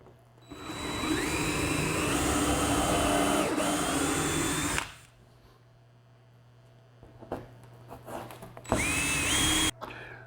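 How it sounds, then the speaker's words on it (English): A power drill bores 1/4 inch pilot holes for lag screws while installing a Jeep hardtop removal system, whining in a sustained burst of about four seconds, then a pause and a shorter second burst near the end. "Now we're going to drill 1/4 inch pilot holes for our lag screws."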